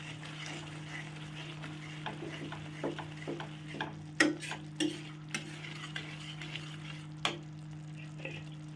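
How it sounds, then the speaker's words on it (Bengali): Spices sautéing in a pan for Bengali potato curry, a quiet sizzle under a steady hum, punctuated by sharp intermittent clinks and scrapes of a stirring spoon against the pan. "ভালো করে কষাবে, নইলে কিন্তু কাঁচা গন্ধ বেরোবে"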